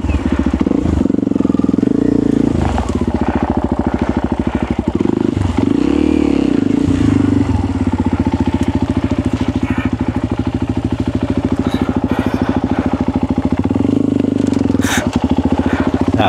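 Dirt-trail motorcycle ride on Dimantal Trail after Typhoon Uwan, engine loud and continuous up close with revs rising and falling, scraping and clattering over the ground, and people talking briefly over it.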